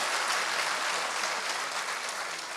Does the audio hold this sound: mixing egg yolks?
no